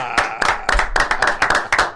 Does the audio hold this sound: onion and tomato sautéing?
no